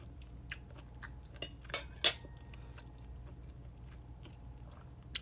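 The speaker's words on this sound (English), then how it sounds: "Okay, now I'm ready to get me a bite of it" A person bites into bacon cheeseburger Alfredo with meat, cheese and bacon, heard as quiet close chewing with a few sharp clinks of cutlery against a plate, with no talking.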